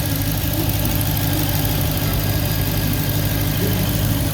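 A Dodge Challenger Hellcat fitted with a 180-degree thermostat idles steadily while parked in the sun on a hot day, giving a constant low, even engine rumble with no speech.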